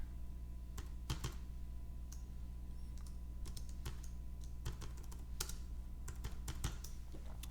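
Keys clatter on a computer keyboard while a header is typed into an Excel VBA form, a run of quick, close taps coming in short irregular bursts over a low steady hum, with no voices.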